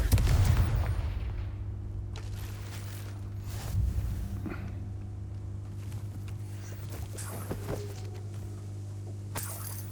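Confringo explosive spell cast in a Harry Potter game, opening with a loud, sudden blast that fades into a low rumbling tail over a steady hum, followed by smaller thuds and clatter.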